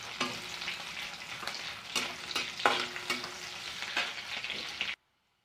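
Food being stirred in a frying pan with panch phoron and chillies, rhythmic spatula scrapes and clinks over a steady sizzle, stopping abruptly into silence.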